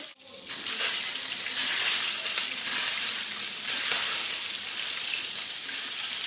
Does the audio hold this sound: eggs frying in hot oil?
yes